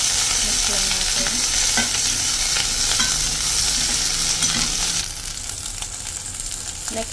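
Onion stirred and frying in a pan for braised fish maw with shiitake mushroom, a steady loud sizzle with spatula scrapes and clicks throughout, dropping slightly quieter near the end.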